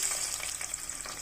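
Onions fry in hot oil with a bay leaf, cinnamon and cloves for a Telugu ivy gourd and meal maker curry, giving a steady, close sizzle for about a second with no voices.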